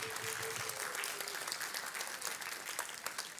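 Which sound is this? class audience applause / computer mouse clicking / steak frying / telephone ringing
class audience applause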